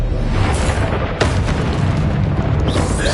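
An Expulso explosion spell in Hogwarts Legacy goes off as one loud, sharp boom about a second in, set against a dense, roaring wall of combat noise.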